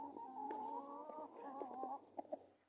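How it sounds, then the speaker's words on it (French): Hens cluck in quick, agitated bursts close by, a string of nasal clucks followed by a few sharp short calls near the end. "je vis une attaque de poule"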